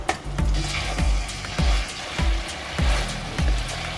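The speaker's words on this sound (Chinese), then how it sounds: "炖煮的这个肉呢，我们翻一下锅" Pork belly and mushrooms stewing in a pot are stirred with a spoon in a regular rhythm of scraping strokes, about two per second, over a soft simmering bubble.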